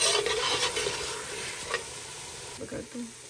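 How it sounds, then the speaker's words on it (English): Masala spices are stir fried with taro root in hot oil, making a loud, close sizzle with repeated scraping stirs and a few knocks of the utensil against the pan. "At this point, I'll add all my masalas or spices in there, and I will quickly stir fry it nicely."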